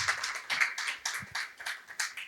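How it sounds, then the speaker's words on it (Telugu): A church congregation claps to praise the Lord, its sharp hand claps coming in a quick, fairly even rhythm of about a dozen bursts, loud and close throughout. "చప్పట్లు కొట్టి ప్రభువును మహింపరచండి"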